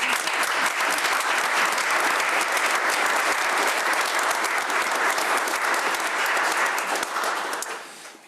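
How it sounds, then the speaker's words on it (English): Village board meeting attendees give the Public Works Department a loud, sustained round of applause, many hands clapping densely and evenly before tapering off at the end. "our Public Works Department deserves a big round of applause as well."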